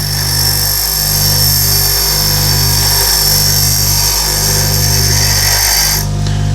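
A grinding wheel whines steadily at high pitch while a drill bit is pressed against it in regular passes for freehand sharpening, loud and close, no voices.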